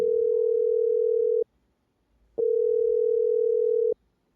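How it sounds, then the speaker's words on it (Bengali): A telephone rings close by with two long, steady electronic tones separated by a brief silence. "এখন আবার কে ফোন করলো?"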